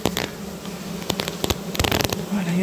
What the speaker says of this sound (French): Je vais vous faire écouter les abeilles.